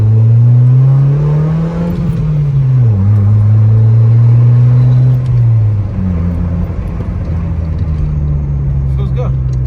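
A stock Honda Civic accelerates on the road, engine droning loud and close from inside the cabin, pitch climbing through the gears with dips at each shift.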